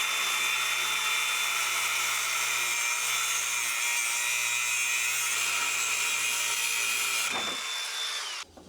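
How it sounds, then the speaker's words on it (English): An angle grinder cuts through old plumbing pipe with a loud, steady high-pitched whine, close by and continuous for several seconds, then it winds down and stops. "So I'm gonna have to cut it, and I'm gonna use this angle grinder that I've never used before."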